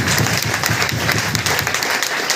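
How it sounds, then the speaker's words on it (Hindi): Loud, steady applause from an audience at a DXN meeting in Basti, India, dense clapping filling the room throughout without pause. "मनोज सर जी के लिए भी जोरदार ताली होनी चाहिए"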